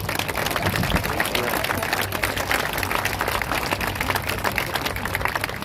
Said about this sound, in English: So if we can give a round of applause to thank them so much.